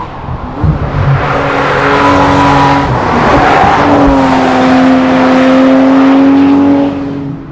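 Porsche 911 GT3 RS race car roaring past at high revs, a loud rising and falling exhaust howl with shifting engine tones, fading slightly at the end.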